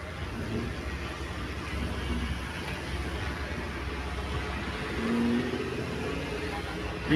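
A vintage car engine runs at an outdoor car exhibition, a low, steady idling rumble in the background among crowd murmur, swelling briefly in a short rise before settling again.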